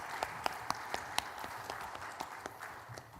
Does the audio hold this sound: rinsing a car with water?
no